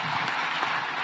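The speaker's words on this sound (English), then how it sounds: "Just give a clap to our Vice President." Steady audience applause for a Vice President at a formal gathering, a continuous wash of many hands clapping at moderate volume with no talk over it.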